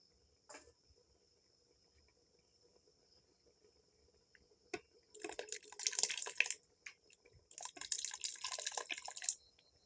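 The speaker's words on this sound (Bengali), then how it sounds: "এতে আমি ডালটা দিয়ে দেব" Soaked lentils for khichuri are poured into a cooking pot in two bursts of rattling, splashing sound, heard close against a quiet kitchen with a faint steady hum.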